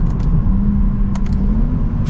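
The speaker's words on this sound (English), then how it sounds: "that sound is very good" A 2023 Lexus IS 500 F Sport's V8 rumbles steadily while driving, a deep, continuous low-pitched exhaust drone at close range with a few faint clicks over it and no talking.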